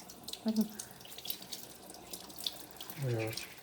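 Water runs steadily from a kitchen tap into a sink, a soft continuous splash at close range, with brief bits of talk near the start and end.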